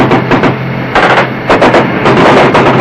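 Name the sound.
gunfire from riverbank at river patrol boat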